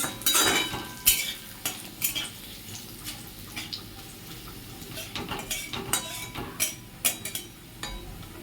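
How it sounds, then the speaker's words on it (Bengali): Crushed garlic fries in a pan while a utensil stirs and scrapes against the metal, producing repeated clanks and scrapes over a soft, steady sizzle, with no talking. "থেতো করা রসুন রসুনটা একটু ভেজে নেব"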